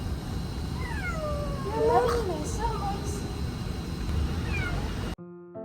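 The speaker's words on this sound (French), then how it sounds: "il y avait un chat qui miaulait dans ma voiture" A small kitten meows repeatedly inside a car, several thin rising and falling cries over a steady low rumble, with people talking nearby.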